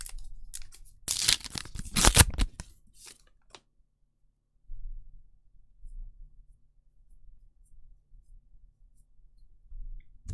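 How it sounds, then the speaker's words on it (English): Paper trading card packs being torn open, a loud close ripping burst lasting about a second and a half, followed by quieter crinkles and clicks and then soft low handling noise. "The paper packs have such a good rip."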